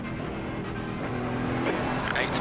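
A race car engine in iRacing during an IMSA Pilot Challenge endurance race splutters as it runs out of fuel, a steady drone broken by irregular coughing stutters that grow rougher near the end, with a driver's voice heard over it.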